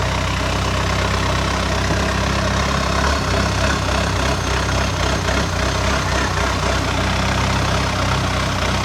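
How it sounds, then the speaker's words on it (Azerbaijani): Boat motor running steadily on a canal lined with houses in Bangkok, Thailand, a loud, continuous low engine drone with constant rumble and no pauses throughout. "çünki motorun səsi imkan vermir"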